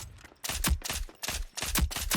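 Rapid bursts of gunfire ring out while shooting bots on a shooting range in the video game Rogue Company, with several loud, close volleys separated by brief pauses.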